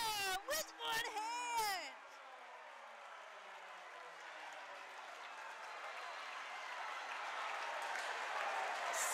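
Basketball crowd at a men's college NJAC semifinal game, Rowan vs. TCNJ, roaring and applauding after a one-handed put-back slam dunk; broad sustained cheering swells and holds loud throughout, with a brief burst of voices at the start.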